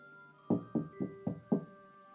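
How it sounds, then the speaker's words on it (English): Five evenly spaced knocks on a door, a firm, hollow rap repeated about every quarter second over a faint steady background hum, used as a story sound effect with no talking. "suddenly, there was a knock on my door"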